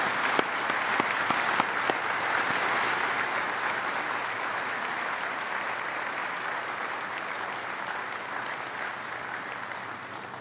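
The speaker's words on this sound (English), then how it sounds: "I think they'd really appreciate a brief round of applause" Applause at a Nottingham Law School graduation ceremony for the class of 2020: a few sharp early claps swell into a steady, even wash of clapping from a crowd that carries on for about ten seconds and eases off slightly toward the end.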